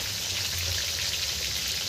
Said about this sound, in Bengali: প্রথমেই শুরু হয়েছে একদম ইলিশ মাছ ভাজা